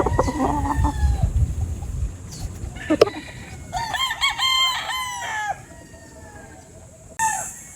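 Gamefowl roosters crow repeatedly, several long drawn-out calls layered with clucking, some near and some farther off, over a low background rumble.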